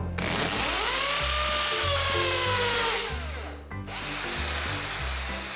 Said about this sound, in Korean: 벽을 뚫어 주실 때는 이 망치 모양이 그려져 있는 해머 기능 되는 부분으로 벽을 뚫어 주셔야 돼요